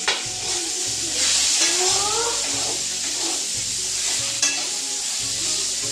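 Bitter gourd frying in a pan, a bright constant sizzle with stirring scrapes, accompanied by a low rhythmic hum in the background and a sharp knock partway through.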